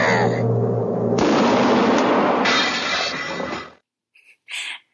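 A cannon-blast sound effect on a comedy show: a long, loud roaring boom that sustains for several seconds and then cuts off, followed by a couple of short bright hits, with no speech.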